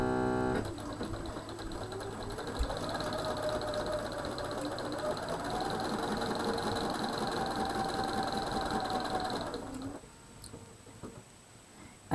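A sewing machine chain stitches quilt pieces with a steady mechanical whir that speeds up and holds for several seconds, then stops with a few faint clicks.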